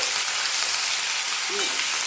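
Beans and eggplant frying together in hot oil with garlic and chili, a steady close sizzle crackling throughout with a brief utensil scrape near the end.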